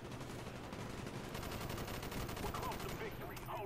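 Rapid automatic fire from a G11 rifle in Black Ops, a dense, continuous burst of gunshots with heavy recoil, loud and close, with battle noise around it.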